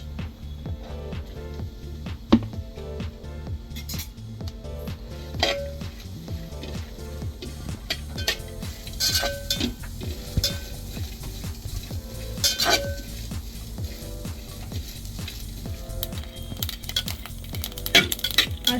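Ten to twelve slit light-green chillies roasting in a hot pan, with a soft sizzle under repeated clinks and scrapes of a spatula stirring against metal, close and steady throughout.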